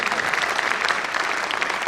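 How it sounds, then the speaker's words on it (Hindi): An audience at a live comedy show applauds steadily, a dense sustained clapping from a crowd filling the whole moment without pause. "जोरदार तालियां बजाओ एक केस भाई के लिए।"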